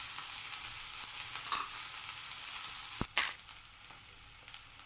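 Vegetables for veg rolls sizzle and fry in a pan, a steady bright hiss, then a stir or clatter briefly breaks the frying before it settles into quieter sizzling.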